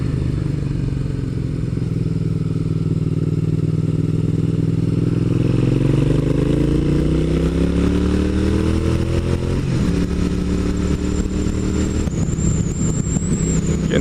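A carbureted motorcycle ridden on a wet morning road, its engine note climbing through several gears with rising revs and shifts, loud and close with continuous wind and road noise.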